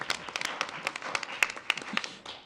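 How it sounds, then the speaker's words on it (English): Scattered, sparse clapping from a small group at a school district board of education meeting, individual claps audible in an uneven rhythm lasting a couple of seconds. "Can we clap? We should clap."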